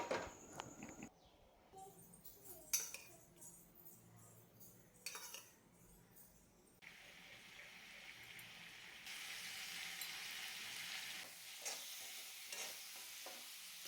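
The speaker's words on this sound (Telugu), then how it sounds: "అన్నీ ఒకేసారి వేసేసి ఫ్రై చేస్తున్నాను" Vegetables including capsicum sizzling and frying in a pan, with a spoon scraping and stirring now and then; steady hiss builds in the second half.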